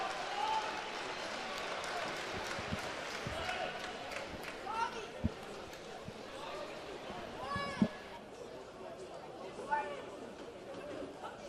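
At an indoor track and field meet during the triple jump, a crowd claps steadily under busy arena chatter and an announcer's voice, with occasional sharp thuds and slaps rising above the murmur.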